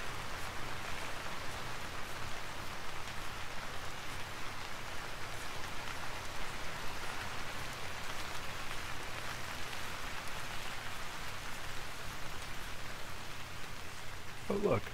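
Steady rain falls in the Vintage Story survival video game, an even, dense hiss of raindrops on surfaces that continues without a break.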